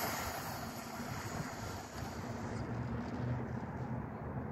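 A Traxxas Bandit VXL RC car runs at full throttle on street tires, giving a steady, loud broadband roar with a wind-like rush that holds for several seconds and has no talk over it.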